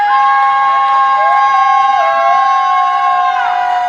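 Home fans cheering in a college volleyball gym, a loud sustained crowd roar with shrill whistles or horn-like tones held steadily through the whole stretch.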